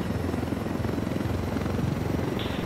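A helicopter in the video game Ghost Recon Wildlands flies with a loud, continuous rotor thump and engine drone, steady and close throughout.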